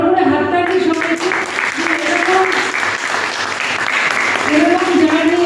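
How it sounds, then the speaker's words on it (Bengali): An audience at a cancer awareness event breaks into loud, continuous applause, dense clapping close to the microphone, with voices and cheering threaded through it. "একটা বড় করে হাততালি সবাইকে"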